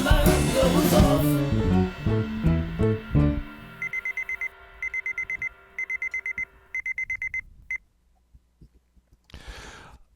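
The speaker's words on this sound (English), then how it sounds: "gotta be on guard when the bubble alarm goes off" A bubble alarm goes off in short repeated electronic bursts, a steady pulsing pattern of beeps that follows a louder musical passage, then fades out.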